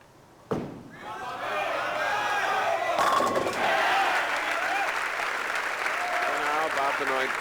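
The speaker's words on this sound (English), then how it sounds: "Benoit picking up some cheering section here in this big crowd." A big standing-room bowling crowd at a 1991 PBA Tour match in North Brunswick bursts into loud applause after a sharp thud, swelling into sustained clapping and cheering with shouts mixed in.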